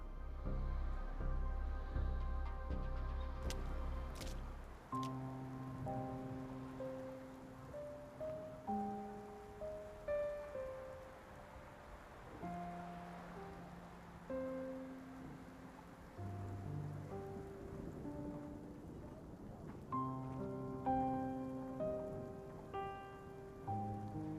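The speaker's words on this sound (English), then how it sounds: "Why are you standing here in the rain?" Rain falls steadily in the video game Love and Deepspace as a soft, faint hiss beneath a louder layer of sustained musical tones that shift through the scene, with no voices heard.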